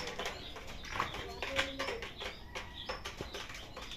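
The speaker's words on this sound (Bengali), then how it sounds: "ওই দেখুন কালো কবুতর উঠতেছে প্রচুর উড়া উঠতেছে" Racing pigeons, including black ones, flying up from a loft: faint soft coos and bursts of flapping wings over quiet background noise.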